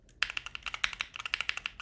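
Quick typing on a mechanical keyboard fitted with Glorious Panda switches, a close, crisp run of about twenty tactile clacks in an uneven, rapid rhythm with no talking.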